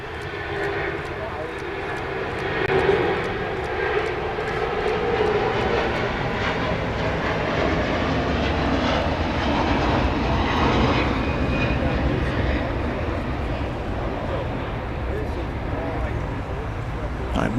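A Hawaiian Airlines jet taking off at LAX, a loud sustained engine roar that swells and holds for the whole span, with people talking over it nearby.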